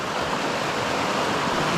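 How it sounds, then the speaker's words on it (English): Steady rushing water of Panther Creek in upstate New York in winter, flowing near ice, a continuous broadband wash with no pauses or voices. "hearing how quiet it is other than just the running water."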